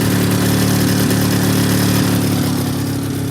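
A 1986 EZGO golf cart engine runs at a steady, loud, rumbling idle close by, droning without pause and easing slightly lower toward the end.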